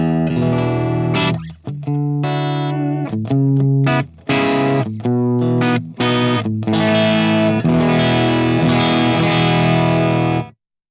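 Distorted electric guitar playing chords and short riffs through a Matchless DC-30 amp preset on a Fractal Axe-FX 3, no reverb, loud and close, with brief stops between phrases.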